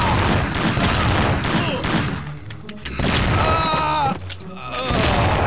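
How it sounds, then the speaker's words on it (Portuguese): Gunfire from the video game Mafia 2 rattles in loud, dense bursts of rapid shots with booming reports, briefly thinning to scattered single cracks before the heavy volley resumes, with faint voices in the background. "é muito tiro pra matar um cara"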